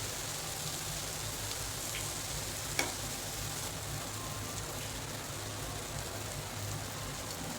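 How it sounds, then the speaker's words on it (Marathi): Onion frying in oil until crisp for homemade onion-garlic masala, a dense, even crackling sizzle running throughout with one brief clink partway, no talk. "तर आता हा राहिलेला कांदा पण आपल्याला असं तळून घ्यायचा छान क्रिस्पी होईपर्यंत."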